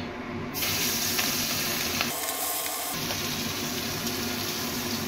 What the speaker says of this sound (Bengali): এবারে আমি মাছগুলো একে একে ছেড়ে দেব।